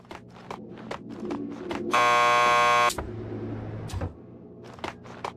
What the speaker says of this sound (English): Just press the buzzer by the door. Petersburg will buzz Payne you in.